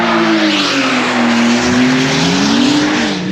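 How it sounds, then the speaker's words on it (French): A BMW M4 sliding in a drift, engine roaring loud and near with tires squealing and skidding throughout, the pitch rising and falling as the car swings. "Babas, il arrive en drift."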